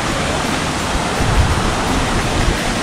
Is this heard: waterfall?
yes